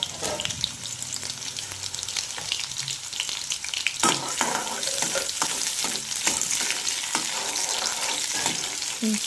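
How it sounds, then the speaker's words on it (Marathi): Chopped onion fries in hot oil tempered with cumin and mustard seeds, a dense close sizzle broken by repeated stirring scrapes and spoon taps against the pan, with no voices. "थोडंसं फ्राय करून घ्यायचं आहे याला"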